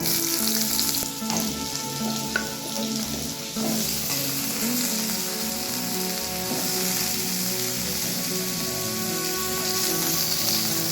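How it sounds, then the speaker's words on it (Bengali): Radish pieces sizzle and fry steadily in hot mustard oil for a mung dal dish, a dense continuous crackle with occasional stirring, close and fairly loud, with no talking. "তেলটা গরম হয়ে গেছে, এবার এর মধ্যে আমি দিয়ে দেবো প্রথমেই মূলোর টুকরোগুলো"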